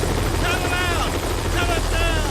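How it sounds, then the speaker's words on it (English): A helicopter idles close by outside a thin-walled trailer, a loud constant rotor and engine thrum, with a voice speaking over it. "with the chopper still running and not so far away through the thin walls of this trailer"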